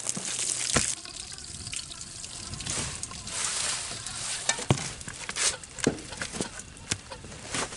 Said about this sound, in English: it got so hot that putting water in it was just turning into steam